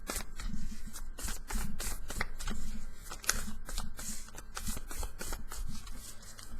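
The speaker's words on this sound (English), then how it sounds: "So let's just pull a couple cards to answer that question." A deck of cards is shuffled and pulled for a card reading, giving quick repeated riffling flutters and soft slaps, close and moderately loud, with no talk.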